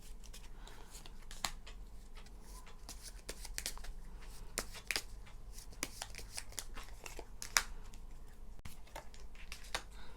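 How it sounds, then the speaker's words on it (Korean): Tarot cards are shuffled and drawn by hand, giving a soft continuous riffle and flicking of card stock with scattered crisp slaps, fairly quiet and close, without talk. "카드를 한번 뽑아볼게요."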